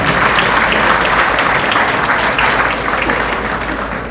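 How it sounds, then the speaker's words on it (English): Audience at an awards dinner applauding a family honoured at the event, a loud, dense roar of many hands clapping in a large room, sustained and easing slightly toward the end. "A round of applause for the entire family for all that they do for Hermes."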